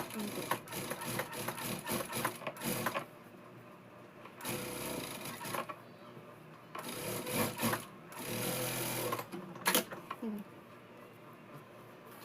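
A sewing machine stitches a Punjabi dress in quick whirring bursts separated by short pauses, close and fairly quiet, with a voice talking at times alongside it.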